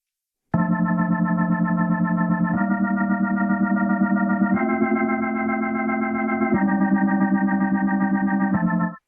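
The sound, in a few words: Yonac Aries rotary speaker effect on audio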